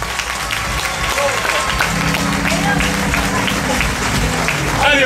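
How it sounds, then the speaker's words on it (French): A pageant audience claps steadily and continuously for the second runner-up at a local beauty contest final, dense crowd applause throughout with a presenter's voice talking over it. "viens te faire applaudir"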